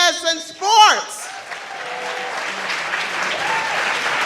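A dinner audience breaks into sustained applause after a short spoken line, the clapping steady and moderately loud with a faint murmur of the crowd beneath it.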